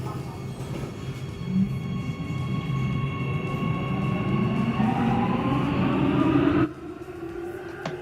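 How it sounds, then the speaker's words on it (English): Warsaw Metro train riding along, a steady loud rumble of wheels and motors with rising electric whine tones, then the noise drops abruptly near the end as the train slows or stops. "I decided to basically take the worst metro train possible"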